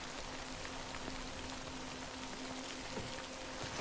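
Steady rain falls in Death Stranding, a dense, even hiss of drops on surfaces with no voices, holding at a moderate level from start to finish.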